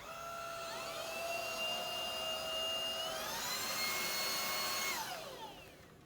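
A Simplicity basic-model two-speed vacuum cleaner runs with a loud steady motor whine that rises in pitch as it speeds up, holds, then drops and fades as it shuts off.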